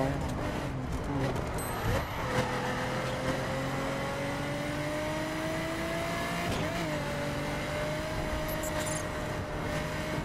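A car cruises along a motorway in the racing game The Crew, its engine a steady, droning hum that slowly climbs in pitch, with a faint voice murmuring underneath.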